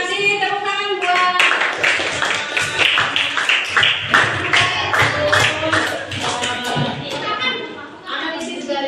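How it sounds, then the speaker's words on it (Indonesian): Classroom clapping: a group of students applauding together in a lesson setting, dense rapid hand claps filling several seconds, with a teacher's voice over the start and end. "Tepuk tangan buat"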